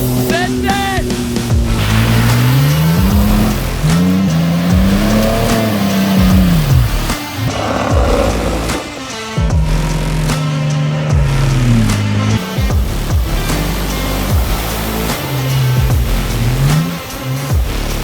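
A Toyota Hilux with a 4-litre V6 1GR engine revs repeatedly, its pitch climbing and falling in long sweeps, loud and close, with some broken stretches and gaps between the pulls.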